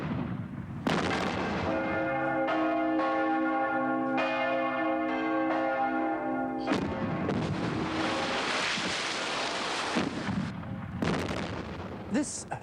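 A church bell in a small town tolls with sustained harmonic ringing for several seconds, then gives way to loud, broadband booming like artillery fire, heard fairly close with no speech.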